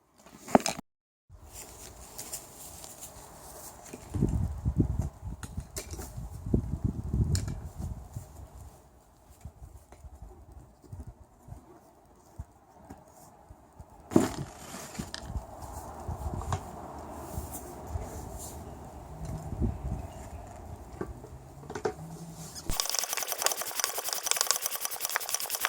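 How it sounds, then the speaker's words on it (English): A hand pump works in repeated rhythmic strokes to inflate a raft, with close thumping and whooshing pulses that come in bursts with pauses between. "Okay, so now we're going to pump."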